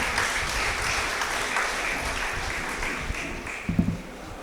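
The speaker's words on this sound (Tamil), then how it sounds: "அவருக்கு ஒரு அரங்கு நிறைந்த கரவொலியை கொடுத்து வாழ்த்த வேண்டும்" An audience applauds at an NPL Season 2 valedictory function, a steady wash of many hands clapping from a full hall that thins slightly toward the end, with no voices over it.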